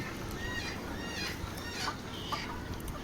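Chickens cluck repeatedly nearby over a steady background hum, with several short clucking calls spread across the moment; a healthy rooster among them.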